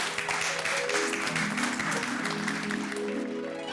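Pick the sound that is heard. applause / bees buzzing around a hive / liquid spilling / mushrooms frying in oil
applause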